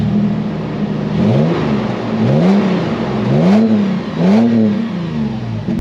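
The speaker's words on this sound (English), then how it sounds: "you have this Toyota catback exhaust with the word TRD stamped on top of it, and it does make a nice sound" A 2023 Toyota 4Runner TRD Pro with a TRD-stamped Toyota catback exhaust revs repeatedly, four rising-and-falling engine swells in a steady rhythm over a low idle rumble, close and loud, with no talking.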